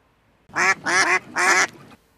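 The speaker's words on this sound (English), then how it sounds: "And the ducks all quacked." Three loud, nasal duck quacks in quick succession, close and clean against a silent background.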